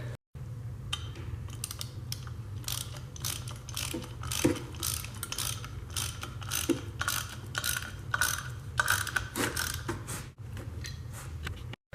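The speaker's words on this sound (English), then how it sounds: "just, screw it back on with the screws that the thing came with" Mechanical ratcheting clicks in rapid bursts as screws are driven back in during a brake pad and rotor install, steady and close with a low hum underneath.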